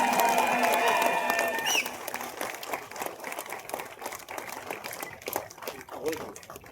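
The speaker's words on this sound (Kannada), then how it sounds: "ಜೋರ ಚಪ್ಪಾಳೆ" Audience applause at an award ceremony in Bengaluru, where a gold medal is presented to a professor; dense clapping is loudest at first, then fades to a scattered patter with some crowd noise.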